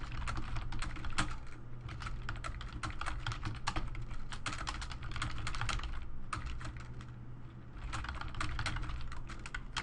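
Continuous clatter of typing on a computer keyboard while entering updates in accounting software, dense rapid keystrokes close by with only brief pauses, alone without talk.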